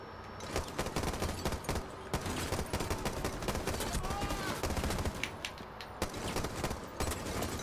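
Rapid, continuous gunfire from the Jackel primary weapon in a first-person shooter video game, dense repeated shots crackling for several seconds with occasional footstep-like thuds and faint talk underneath.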